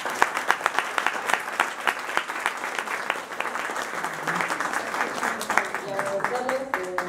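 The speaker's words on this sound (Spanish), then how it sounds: "un aplauso para los profesionales" Audience applause for the professionals at the end of a talk on addictions, a dense run of claps lasting several seconds that thins toward the end while a voice begins speaking over it.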